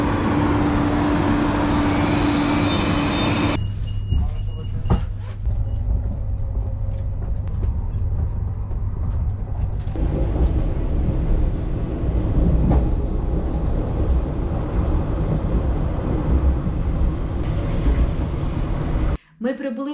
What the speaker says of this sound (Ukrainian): Не знаю, яким буде потяг, але подивіться на цей з панорамними вікнами